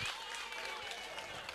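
Applause from an audience at a school workshop gathering for the headmaster, a steady, moderately distant wash of clapping through the whole short moment.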